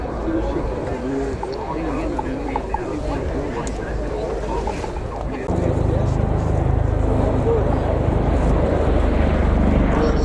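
A Westland Wasp helicopter comes in to land at an RAF airshow, a steady rotor and turbine roar that grows louder partway through, with a commentator talking over it and wind buffeting the microphone.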